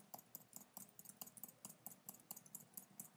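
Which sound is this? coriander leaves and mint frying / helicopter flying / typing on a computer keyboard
typing on a computer keyboard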